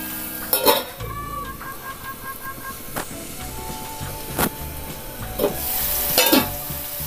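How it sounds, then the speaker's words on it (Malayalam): Potatoes fry in oil in a pan for capsicum masala, giving a steady sizzle broken by several sharp clinks of a utensil or lid against the pan, close up and with no talking. "ഇനി നമുക്കിത് മൂടി വെച്ച് 1 മിനിറ്റും കൂടി ഫ്രൈ ചെയ്തെടുക്കാം."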